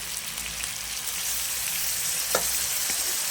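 Chicken wings with fish sauce, sugar and seasoning sauce sizzle hard in a hot pan while being stir-fried, a dense steady hiss with one brief scrape of the spatula.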